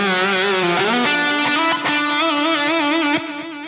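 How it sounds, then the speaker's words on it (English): A sustained, buzzy electric guitar lead with heavy distortion through amp and cab simulation plays bending, wavering notes, loud and alone without a backing track. "So you'll hear a bunch of distortion on there"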